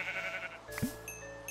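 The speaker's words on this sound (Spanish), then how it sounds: "Hay una oveja" Sheep bleating in Minecraft: Education Edition, a single short, clear bleat from the game that stands out over a faint background of game music.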